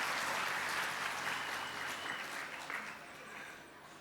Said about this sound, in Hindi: पति की बात आई तो ताली कम आई